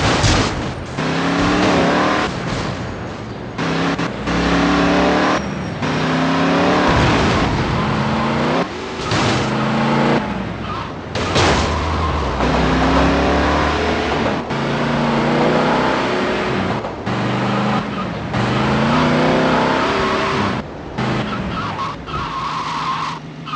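A car races through Liberty City in the video game GTA Liberty City Stories, with loud engine revving, repeated tire squeals and skids, and bursts of acceleration filling the whole stretch.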